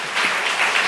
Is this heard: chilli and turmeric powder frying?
no